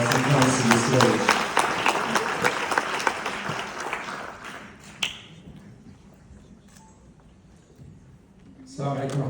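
An audience at a keynote event at the American University of Dubai claps steadily for several seconds, then the applause thins and fades into quiet room sound before a voice begins.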